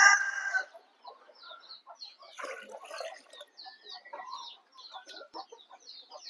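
Country hens cluck and chatter softly in short scattered calls, quiet and fairly close, with brief pauses between bursts.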